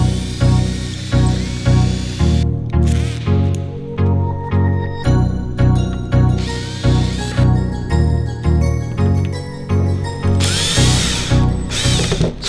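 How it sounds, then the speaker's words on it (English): A power drill drives a screw into a wall stud to mount a compostable bag dispenser, its motor whirring loud and close in steady pulsing bursts with ratcheting clicks, and no talk over it. "So when screwing the screw into the stud"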